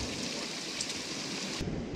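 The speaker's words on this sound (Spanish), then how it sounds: "está lloviendo un poquito y además están cayendo rayos" Rain falling during a thunderstorm at a beach, a steady soft hiss of drops with a low rumble of thunder near the end, fairly faint and without speech.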